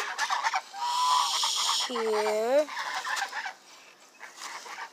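Geese honk and gabble outdoors with several loud, wavering calls close by, mixed with a person talking to them.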